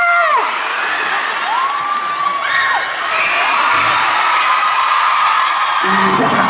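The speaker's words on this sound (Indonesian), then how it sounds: "Nah sekarang lu boleh teriak." A concert crowd at a 2014 show in Hong Kong shouts and cheers loudly and continuously, with whoops and cries rising over the roar, close and dense throughout.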